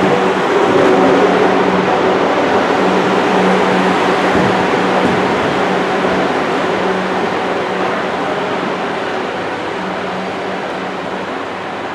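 A passenger train runs steadily on the rails, a loud continuous rumble and hum heard from inside a carriage that slowly eases off toward the end, with no talk.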